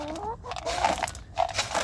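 Backyard chickens in New Zealand cluck and murmur close by in short, uneven bursts, with a voice talking over them.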